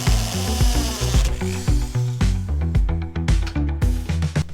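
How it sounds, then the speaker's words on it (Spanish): Hole saw with a central pilot bit drilling, loud and close, its motor whirring in uneven surges as the cutter bites and releases in short bursts. "ahora vamos a utilizar un sacabocados, que es como este, también tiene una broca en medio, para que se vaya derecho"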